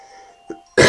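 A single muffled cough up close, followed by a sudden loud burst of noise cutting in at the end.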